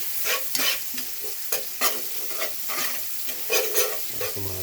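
Sliced ginger sizzles as it drops into hot cooking oil for ginataang langka, with a steady crackling fry broken by repeated scraping stir strokes, fairly close and alone.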